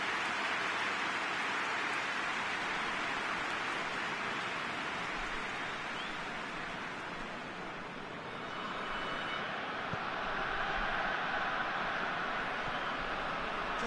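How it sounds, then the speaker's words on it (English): Steady rain hiss during a football video game match in a classic clubs cup knockout tie, a broad, continuous wash of falling rain that swells slightly late on, with no voices over it. "Just starting to get the first signs of rain here."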